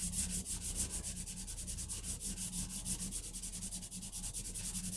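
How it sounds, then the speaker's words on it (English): Steady scratchy rubbing of sanding dust from 3D-printed parts being worked off a cleaning block, close and continuous with a quick back-and-forth rhythm, no voices. "You can see it takes sanding dust off beautifully."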